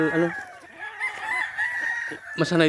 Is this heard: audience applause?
no